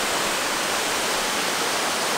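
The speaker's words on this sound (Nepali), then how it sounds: "यो पानी भनेको खोलामा बगेको साधारण पानी हो" Stream water flowing near Kanfare waterfall makes a loud, continuous hiss with no breaks or other sounds.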